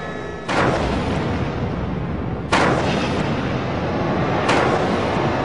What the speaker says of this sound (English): The building's detonated.